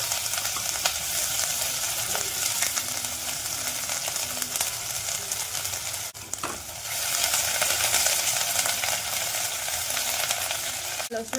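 Chilli, ginger and garlic sizzle loudly in two tablespoons of hot oil in a wok for fried rice: a steady, close, crackling fry with stirring clatter and a brief dip midway, with no talking.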